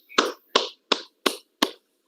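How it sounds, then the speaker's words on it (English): Five sharp single hand claps at a steady pace of about three per second, close and distinct with silence between them, heard at an online immunology workshop after a talk. "Let us give him a big applause."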